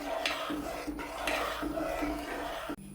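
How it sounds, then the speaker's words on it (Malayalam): Payasam (pradhaman) being stirred in a pot: a ladle scrapes in repeated rasping strokes against the pot, close and moderately quiet, with no talking. "പായസത്തിലേക്ക് ഒഴിച്ചു കൊടുക്കാം നല്ല പോലെ ഒന്ന് ഇളക്കി കൊടുക്കണേ"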